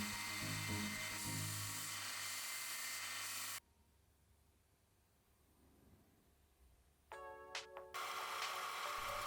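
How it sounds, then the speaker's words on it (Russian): Small part for a prototype spring-assisted knife being sawn to length and its ends ground, a loud steady whining power-tool drone that cuts out into quiet, then a brief rising whir before the grinding resumes. "Теперь отпиливаю под нужную длину и обтачиваю торцы."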